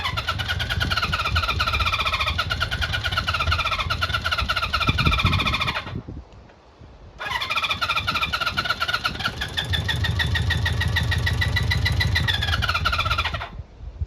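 A flooded Honda CB400 Four classic motorcycle engine cranks on the starter in two long, loud, steady bursts separated by a brief pause, without catching.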